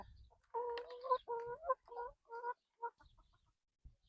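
Hens in a backyard coop cluck and squawk in a run of short, close calls while sorting out their pecking order, busy at first and thinning to scattered notes, with no voices over them.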